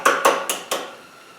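Four sharp metallic hammer knocks on sheet metal, knocking scale off a piece for a sheet metal rose, evenly spaced about a quarter second apart, close and ringing briefly before fading.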